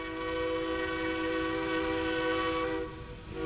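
Narrow gauge train number 473 arriving, a sustained horn blast with steady harmonic tones over a rumbling bed, holding for about three seconds before fading slightly.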